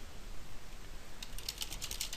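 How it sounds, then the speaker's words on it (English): Quiet room tone, then a quick flurry of sharp, close clicks from a computer keyboard being typed on, with no voices. "I seem to be hitting a lot of random keys today"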